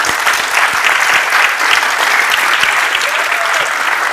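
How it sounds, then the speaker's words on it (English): An audience applauds speaker Tom Hall at a talk with loud, dense, continuous clapping that holds steady from start to finish, close and full. "So can you give a round of applause to Tom Hall?"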